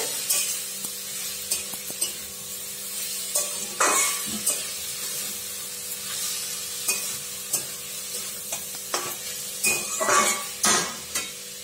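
Kofta mixture for a sweet pumpkin kofta curry frying in a pan, with a steady close sizzle and frequent sharp scraping stir strokes and utensil clinks at an irregular pace.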